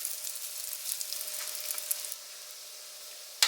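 Hot dog buns toast on a griddle with a faint, fine crackling sizzle that fades after a couple of seconds, ending in one sharp clatter close by.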